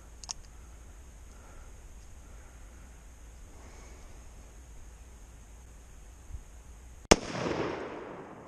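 .460 Magnum revolver firing a single very loud, sharp gunshot near the end after quiet outdoor ambience, followed by a ringing, echoing tail.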